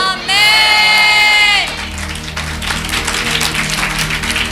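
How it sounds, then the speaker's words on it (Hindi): A church congregation at a Hindi sermon breaks into applause, a scattered, moderately loud clapping that follows a short sustained musical tone and continues steadily to the end. "जब आपने ताली बजाई"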